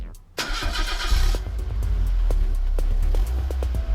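Repaired van engine cranking briefly then catching and settling into a steady, loud idle close by, with a low rumbling hum and occasional ticks over the running motor.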